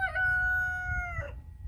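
A rooster crows once on a small homestead where two chicken flocks are being merged, a clear, steady, drawn-out call ending in a falling tail, heard alone over low background rumble.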